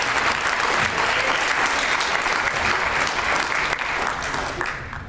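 Sustained applause from an audience at a school motivational talk, dense and continuous hand clapping that fills the whole stretch and tapers slightly at the end.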